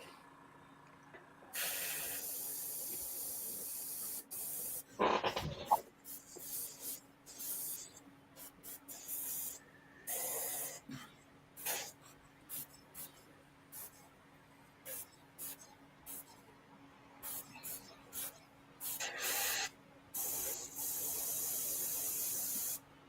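Black spray paint hisses from an aerosol can in many short, close bursts of varying length, with a few longer sprays, and a voice talking quietly between them.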